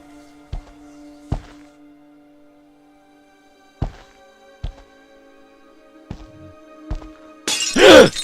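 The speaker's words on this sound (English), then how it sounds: "the plate shattered" A plate shatters in the video game The Lost Crown: sparse hollow thunks and knocks over a quiet droning ambience, then a sudden loud crash of breaking ceramic at the end.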